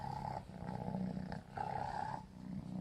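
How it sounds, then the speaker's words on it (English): A cat purrs very loudly and close, a rough rumbling purr that rises and falls with each breath, with no talking. "Such a loud purrer."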